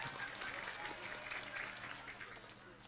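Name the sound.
applause for Poltek Harapan Bersama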